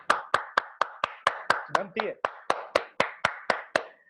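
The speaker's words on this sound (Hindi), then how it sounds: "आज मैम के लिए जोरदार तालियां हो जानी चाहिए" An audience claps in a steady, even rhythm at a business plan presentation in Pune, about a dozen loud synchronized beats with a brief spoken voice partway through.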